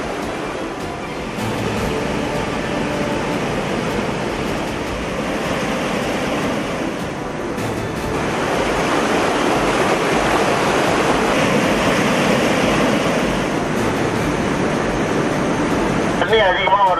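Palar river floodwater rushing over a submerged causeway, a loud continuous roar of churning water that swells slightly in the second half, with a brief voice near the end.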